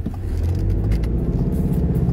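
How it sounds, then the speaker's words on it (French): Truck rumbling close behind a car on the road, a loud continuous low drone heard from inside the car with no talking. "Le camion est sur mes fesses."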